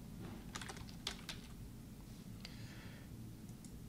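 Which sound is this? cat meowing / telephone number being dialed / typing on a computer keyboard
typing on a computer keyboard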